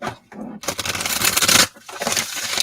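Rapid riffling and flapping of a deck of oracle cards being shuffled, a dense papery burst lasting about a second, with soft handling noises around it.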